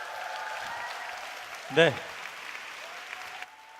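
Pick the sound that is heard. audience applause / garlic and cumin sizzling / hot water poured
audience applause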